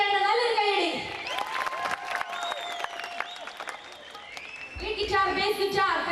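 Audience applause and cheering at a Mappilappattu stage show, a dense burst of clapping that swells and fades while a host speaks over it and music plays faintly.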